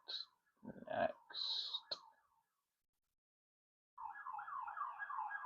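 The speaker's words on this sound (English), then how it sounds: "Oh, the sirens. The sirens are gonna go so hard." Warbling electronic siren tones sound in short bursts, then fall silent for a moment before a steady, rapidly undulating siren wail resumes.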